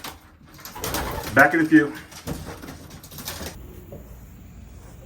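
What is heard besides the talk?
racing pigeons (cock birds) cooing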